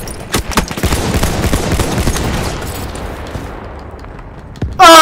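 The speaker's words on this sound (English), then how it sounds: "Somebody's shooting at me." Battlefield 1 gunfire crackles in rapid bursts, with sharp close shots at first that thin into a dense, fading volley. An abrupt loud burst of noise cuts in at the very end.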